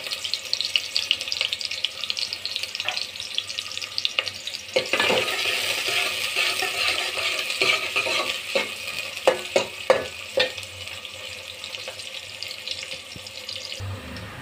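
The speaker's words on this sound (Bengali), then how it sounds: "তেল গরম হয়ে গেছে, দিয়ে দেবো পেঁয়াজ কুচি, থেতলা করে রাখা রসুন।" Chopped onion and crushed garlic frying in hot oil, a steady close sizzle broken by stirring scrapes and clinks of a utensil, with a brief burst of louder hissing partway through.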